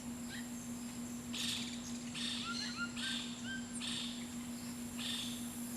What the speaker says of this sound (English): a whole host of other bird sounds I'm unfamiliar with